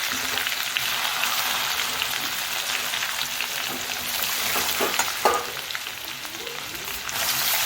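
Mustard seeds, green chilies, garlic and a bay leaf spit and crackle in hot oil, a steady close sizzle with occasional stirring scrapes and no voices over it.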